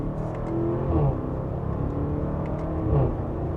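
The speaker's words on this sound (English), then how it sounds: "under a mild acceleration, even that sounds good. It's got a nice throaty note to it" An Audi SQ7 SUV with sport exhaust hums steadily with a deep, throaty exhaust note, swelling slightly twice under gentle acceleration, recorded from inside the vehicle.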